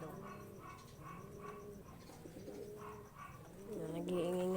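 Pigeons coo repeatedly inside a loft, a soft, rolling burble heard close by at moderate volume. Faint background noise runs under it, and the sound grows louder near the end.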